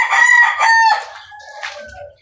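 A fighting cock crows loudly and close by, one long strained call followed by a fainter, ragged tail, with no other sound around it.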